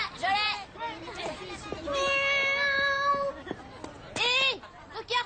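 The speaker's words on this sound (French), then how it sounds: "Il y a un petit chat trop mignon dans l'arbre, il est coincé, il peut plus descendre." A small kitten stuck up in a tree meows repeatedly, with several close, drawn-out cries, amid lively voices and speech noise.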